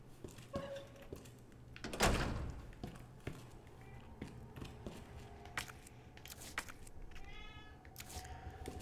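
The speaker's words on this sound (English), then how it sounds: "I can hear a cat." A cat meows in the Resident Evil 2 video game, set amid faint game ambience with soft thuds and a door-like thump, the meow brief and fairly distant; no one talks.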